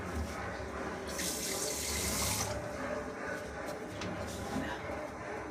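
Water runs from a kitchen tap while food is being cooked, a steady close rushing splash with a brief louder surge near the start.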